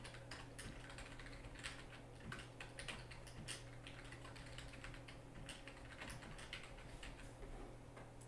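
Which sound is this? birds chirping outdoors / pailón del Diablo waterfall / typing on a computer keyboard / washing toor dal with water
typing on a computer keyboard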